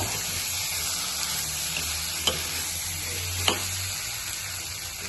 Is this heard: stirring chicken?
yes